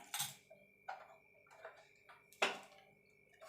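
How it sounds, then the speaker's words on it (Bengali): Gas stove being lit before frying potato paratha: a series of sharp, separate igniter clicks, about four or five, spaced unevenly in a quiet kitchen. "আমি পরোটাটা ভাজার জন্য গ্যাস ধরিয়ে"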